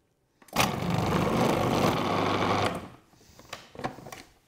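A Sage Kitchen Wizz Pro food processor with a large chipper disc and wide feed chute slices food in one loud, whirring burst of about two seconds, followed by scattered clicks and knocks as the motor winds down.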